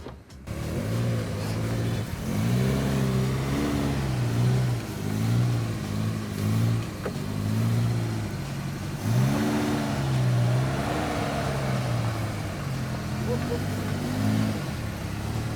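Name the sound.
Suzuki Katana off-road driving through deep water channel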